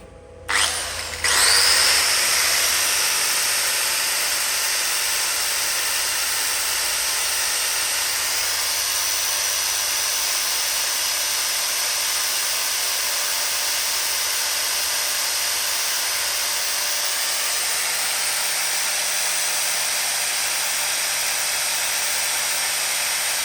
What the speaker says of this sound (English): I will fire up the cordless and we'll get a reading of what it's doing